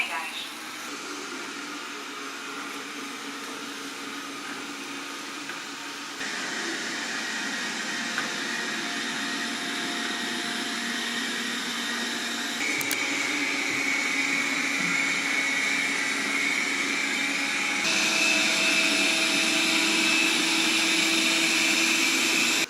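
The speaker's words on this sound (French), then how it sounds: "Sur tous mes tapis, aucun problème, y compris le grand tapis qui pose tant de problèmes aux ces robots aspirateurs." A ROIDMI EVE PLUS robot vacuum cleans a large rug at standard suction, its steady whirring motor hum running continuously and stepping up in loudness a few times.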